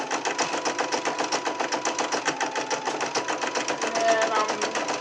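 An embroidery sewing machine stitches out small hippo ears for a crayon holder, a loud, fast, even mechanical chatter of needle strokes running steadily throughout.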